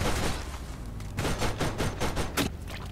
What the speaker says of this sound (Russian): А чё ты палишь?